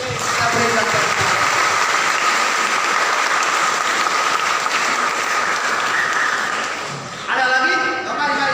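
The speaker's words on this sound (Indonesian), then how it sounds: "Kita berikan tepuk." A church youth anniversary and Easter celebration audience breaks into sustained, dense applause that fills the hall for several seconds, then tapers off as a voice speaks near the end.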